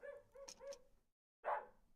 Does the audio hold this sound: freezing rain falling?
no